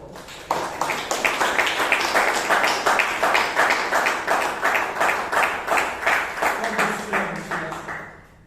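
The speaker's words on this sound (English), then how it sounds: "And please give her a loud round of applause." Members at a Toastmasters meeting in Bangalore give a round of applause, a few close hands clapping in a quick, steady, rhythmic pattern that fades out at the end.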